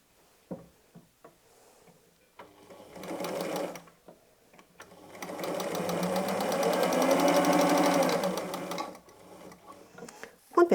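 Domestic sewing machine stitching a seam on a patchwork fabric basket made from jelly roll scraps, starting with a few separate clicks, then a steady rapid whirring run that slows and stops, close and fairly loud.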